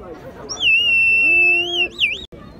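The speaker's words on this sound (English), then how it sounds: "So you gotta put water in these and blow it here, and it sounds like a bird." Water-filled bird whistle blown nearby, giving a loud warbling high tone that swoops and wavers like birdsong, with chatter in the background.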